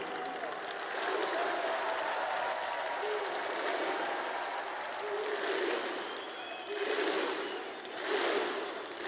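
Crowd noise fills the arena at the PGL Major Kraków 2017 CS:GO semi-final between Virtus.Pro and Immortals. Sustained applause and cheering swell in several waves, with commentators' voices faintly underneath.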